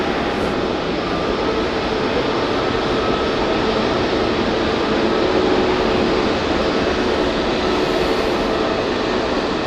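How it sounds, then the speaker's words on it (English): A Pegasus Airbus A320neo roars steadily on its takeoff run at Hamburg Airport, a loud, broad, continuous jet rumble and hiss that holds level with no talk over it. "Fly Pegasus now. There she is. Airbus A320neo heading off."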